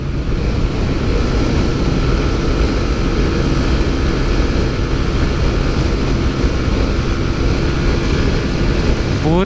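Motorcycle engine held at full throttle during a drag race between a Yamaha R15M and a TVS Apache RTR 160 4V, a loud steady drone with rushing wind throughout.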